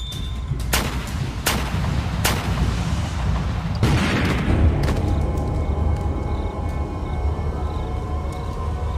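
Loud, sharp gunshots crack several times, then a heavy RPG explosion rumbles and a dense roar of continuous noise follows.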